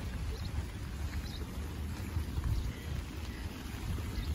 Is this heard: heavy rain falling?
yes